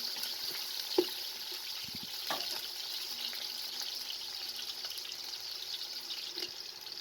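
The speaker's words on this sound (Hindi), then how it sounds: "सबसे पहले पतीले के अंदर 2 कप कुकिंग ऑयल डाल दें और साथ में प्याज शामिल कर दें।" Onions are cooking in two cups of oil in a large pot for chicken pulao, giving a soft, steady hissing sizzle at moderate distance, with a few light clinks and knocks of utensils.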